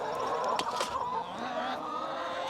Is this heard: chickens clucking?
yes